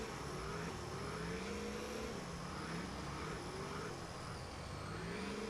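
Freightliner truck in fifth gear at wide open throttle on a muddy route, a continuous loud engine drone that rises and falls steadily in pitch, with no voices.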